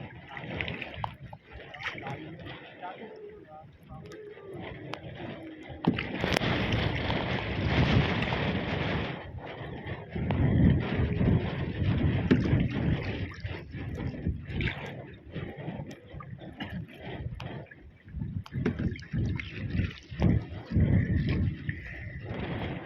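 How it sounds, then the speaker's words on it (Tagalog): Strong gusts buffet the microphone in a roaring, rumbling wash that swells and fades, with faint voices underneath. "Oh, sobrang hangin ah."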